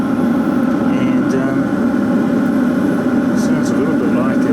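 A Chinese JP 12V diesel air heater runs on test after assembly, giving a steady, even, muffled roar like a distant jet that holds constant throughout without any breaks.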